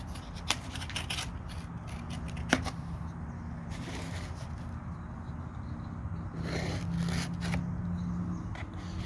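A comic book package is cut open up close, with rustling, scraping and snipping of cardboard and plastic in irregular bursts, plus a couple of sharp ticks, and no talking.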